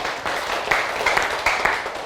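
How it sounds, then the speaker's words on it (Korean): Lecture audience in a university CEO course clapping to close the talk, a full burst of applause with several sharper individual claps standing out, loud and continuous with no speech. "박수로 마무리하겠습니다"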